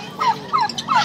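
Turkey gobbling three times in quick succession at a pet market, each call a short descending warble, fairly close and clear over a quiet background.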